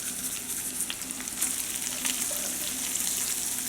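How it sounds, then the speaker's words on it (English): Ground meat and onions sautéing in a pan for a home-cooked layered dinner, a dense, close sizzle with scattered crackles and stirring scrapes, no one speaking. "now you have the onions stirred in there with the meat there, they're sauteed"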